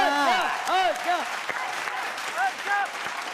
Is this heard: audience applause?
yes